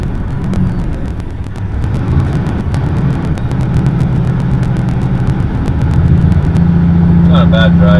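Cab interior of a truck driving on a highway, with a steady engine and road drone throughout, repeated faint rhythmic ticks, and a rising tone near the end.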